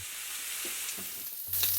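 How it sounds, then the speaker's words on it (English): Five chicken thighs searing in a crowded pan, a continuous bright hiss of frying fat, close and even, with a louder sizzling burst near the end and no talking. "we're going to let those sear for about 5 minutes until they get nice and browned up"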